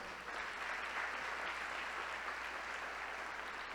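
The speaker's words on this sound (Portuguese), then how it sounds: "Quem crê, aplauda ao Rei Jesus." A church congregation claps steadily throughout a healing service, a dense, even wash of applause with no break, filling the room at moderate distance.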